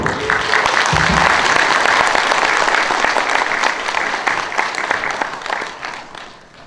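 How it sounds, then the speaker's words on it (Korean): A large indoor audience at a Catholic parish social-welfare training session in Incheon gives a priest a warm round of applause. The dense, loud clapping holds steady for several seconds, then fades away toward the end. "먼저 우리 김기태 신부님 박수로 환영하도록 하겠습니다."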